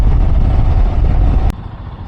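Heavy road traffic in a jam on a journey from Kerala to Prayagraj, with a loud, close, continuous low engine rumble from idling vehicles that drops off abruptly near the end.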